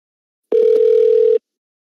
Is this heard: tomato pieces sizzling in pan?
no